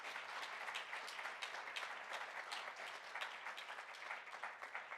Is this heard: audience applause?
yes